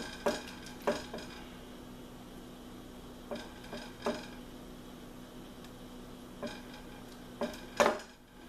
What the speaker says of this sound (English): So I put it into a bowl here.